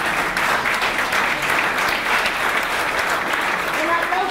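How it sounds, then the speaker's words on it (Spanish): Steady, dense audience applause at a social policy and children's rights meeting in Argentina, many hands clapping together at an even level for the whole stretch, with no talk over it. "Un aplauso para..."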